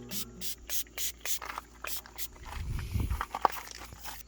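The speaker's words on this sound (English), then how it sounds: "go ahead and spray some of this in." Odor eliminator sprayed onto a car's carpet, a series of short hissing spray bursts followed by a softer rustle, close and fairly quiet.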